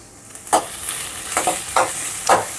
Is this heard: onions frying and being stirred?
yes